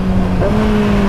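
A powerful motorcycle engine revs loudly and steadily close by on a wet asphalt road, its pitch stepping up partway through, with no talk over it.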